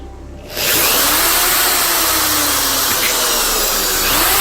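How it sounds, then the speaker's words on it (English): A steady, loud, continuous power-tool whir starts after a brief quiet moment and holds for several seconds, close by, while wood screws with triangular heads are driven into bars on a homemade TV antenna. "I'm using these wood screws with a triangular head, plus a screwdriver, to secure everything in place."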